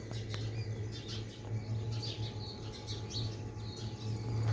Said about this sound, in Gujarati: અને અત્યારે તો મસ્ત એવો પક્ષીનો અવાજ આવે